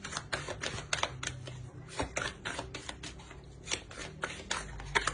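Tarot cards being shuffled and drawn during a reading, giving a dense run of crisp, rapid riffling clicks and flutters that stays fairly close and steady throughout, with no voice over it.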